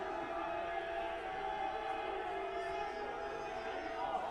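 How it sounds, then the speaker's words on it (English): Steady crowd noise and sideline chatter at an American football game, a dense continuous murmur of many voices with no distinct cheer peaks, mixed with speech-like chatter throughout. "there's a lot of noise coming from this crowd and from the sideline"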